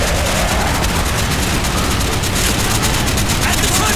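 Loud, continuous gunfire from an aircraft strafing run in Call of Duty Black Ops forms a dense, roaring barrage of rapid shots, with shouting voices mixed in.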